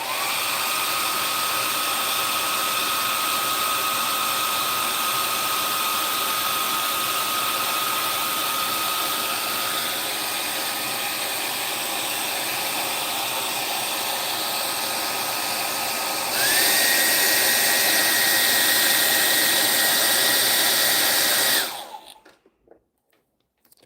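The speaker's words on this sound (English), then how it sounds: "I'm just going to use a hairdryer." A hair dryer blows steadily and loudly for about 22 seconds while drying paint on a miniature, then cuts off abruptly. Partway through, its pitch steps up slightly, as if switched to a higher setting.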